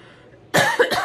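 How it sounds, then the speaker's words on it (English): A single sharp, close cough bursts out after a brief quiet moment, followed by a second harsher cough. "trying not to be all coughing"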